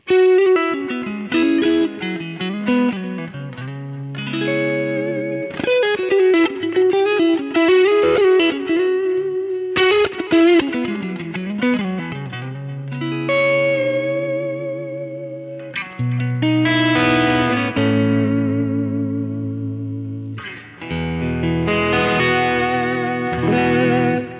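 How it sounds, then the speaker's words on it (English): Electric guitar through a Kemper drive effect with a lightly overdriven, edge-of-breakup tone, played alone in ringing chords and single notes, full and sustained with effects coloring the sound. "achieve a clean-ish or edge of breakup sound just by playing light"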